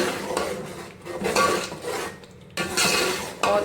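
A spoon scrapes and clinks against a pan while wheat flour is stirred into ghee, coming in repeated bursts of metallic scraping with short pauses between strokes, close and fairly loud.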